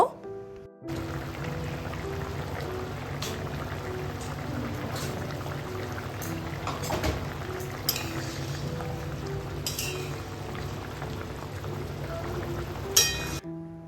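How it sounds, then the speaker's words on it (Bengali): Hilsa fish and fried eggplant in a pan simmering on high flame, a steady close bubbling and sizzling that runs throughout with occasional clinks of utensils. "এবার অন্তত সাত থেকে দশ মিনিট খুব ভালো করে হাই ফ্লেমে এটাকে ফুটতে দেব"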